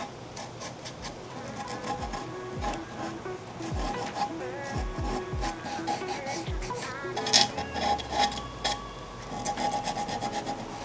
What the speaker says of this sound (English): I'm going to use a Gator micro zip thing and just kind of get all of the edges. I'm using 220 grit